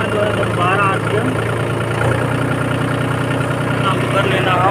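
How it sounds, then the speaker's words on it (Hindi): A Mahindra 265 tractor engine idles at low RPM, giving off a steady, close diesel drone with a low rumbling throb that holds constant throughout. "यहाँ पर ट्रैक्टर मैंने स्टार्ट कर लिया"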